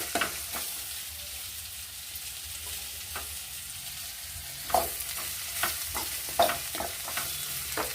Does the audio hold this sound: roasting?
yes